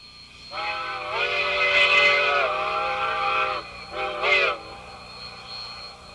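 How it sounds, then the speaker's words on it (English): A westbound Cumbres and Toltec train from Antonito sounds its whistle arriving at Osier: one long, steady multi-tone blast, then a shorter second blast, loud and clear over faint background rumble. "the westbound train from Antonito comes into view"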